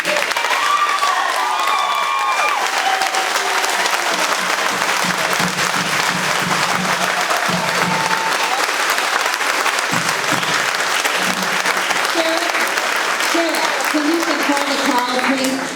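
Sustained applause from a crowd at a county board meeting in Stark County, loud and dense throughout, with scattered voices and cheers mixed into the clapping.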